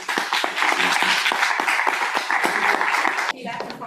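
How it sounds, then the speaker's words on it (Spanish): Audience applause at an autism awareness talk, steady dense clapping from a seated crowd that suddenly drops off near the end as a voice begins speaking. "Un aplauso, por favor"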